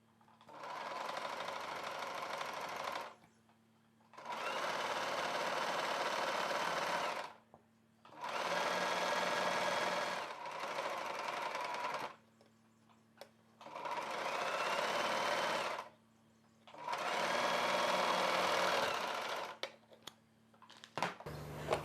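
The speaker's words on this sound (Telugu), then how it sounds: "ఇప్పుడు మనం ఈ థ్రెడ్ పక్కనే కుట్టు వేసుకుందాము" A sewing machine stitches invisible piping thread onto blouse fabric, running in six steady bursts of a few seconds each, separated by brief pauses. The whirring sounds close and alone, with no talking.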